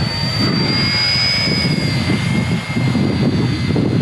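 An RC ERA C032 UH-1 Huey model military helicopter flying outdoors in wind, giving a steady loud whining rotor and motor drone with a constant high-pitched tone throughout.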